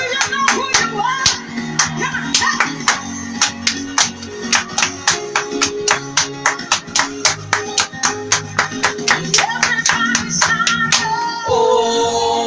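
Hands clap in a steady, even rhythm through a song, the sharp claps sitting on top of sustained music and singing in a classroom gathering.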